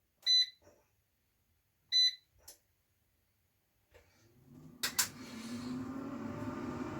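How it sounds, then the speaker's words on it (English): An air fryer set to preheat gives two short beeps with a softer blip after, then a click as the fan starts and settles into a steady whir. "I'm going to put the air fryer on preheat"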